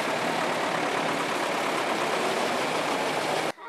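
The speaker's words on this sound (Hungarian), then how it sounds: "A traktorok az egyetem parkolójából a levéli veterán traktor találkozóra indulnak." Veteran tractors set off from a university car park bound for a vintage tractor meet in Levél, their engines running in a steady, loud, broadband rumble that holds constant before cutting off abruptly near the end, with no talk.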